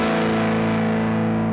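An electric guitar runs through a Mooer Two Stones amp-simulator pedal with its distortion gain turned down, giving a short sustained chord with a moderately crunchy, overdriven tone and no talk.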